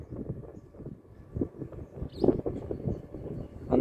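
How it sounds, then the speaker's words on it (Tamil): Strong wind blowing across the ash lake spot at TS-II in Neyveli, a steady, loud low rumble buffeting the microphone with gusty swells throughout. "காற்று நல்லா பலமாக தான் அடிக்கும்பா."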